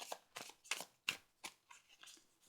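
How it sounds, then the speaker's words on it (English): Cards for the Undermined: Pairadice City board game being shuffled, a series of quick papery riffling bursts at a steady rhythm, fairly close and quiet, with no voices. "I will shuffle those back in"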